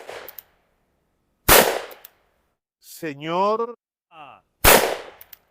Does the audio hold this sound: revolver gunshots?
yes